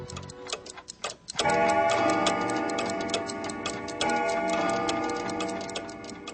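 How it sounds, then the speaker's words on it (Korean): A clock in a quiet room strikes the hour of three in the afternoon, a bright ringing chime swelling after faint ticking and sustaining with a second strike, resonant and close. "시계가 오후 3시를 치기 시작했다"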